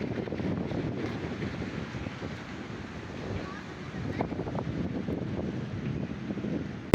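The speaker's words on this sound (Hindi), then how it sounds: "बहुत हवा चल रही है" Strong, cool wind buffets the microphone in an open area beside a highway near Karachi, a continuous rough rumble that swells and eases with no clear break.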